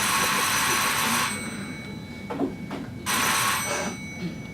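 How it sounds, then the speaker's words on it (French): A telephone rings in two bright bursts separated by a pause, with a few soft knocks and room noise in between. "c'est le téléphone, hein."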